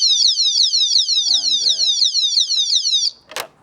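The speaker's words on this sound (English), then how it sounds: "And that alarm is pretty nasty." A motorcycle disc lock's alarm, loud, shrill and electronic, whoops in rapid repeating sweeps for about three seconds, then cuts off, followed by a brief clatter.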